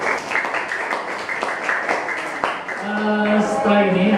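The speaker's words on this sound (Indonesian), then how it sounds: "tepuk tangan buat Mas Budi" An indoor audience gives a short round of clapping for Mas Budi, a patter of many hands at moderate distance that fades as a voice starts in over the end.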